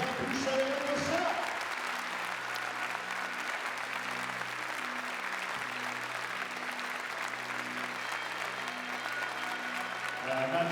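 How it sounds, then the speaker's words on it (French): Spectators applauding after a compound men's archery gold final at an indoor event in Nimes, a steady sustained clapping over a constant hum, with a voice faintly mixed in. "Oui, ça mérite des applaudissements."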